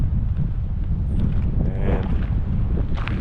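Steady low wind rumbling across the microphone at Iona Beach Regional Park by the ocean, a constant dull roar throughout with a brief word spoken.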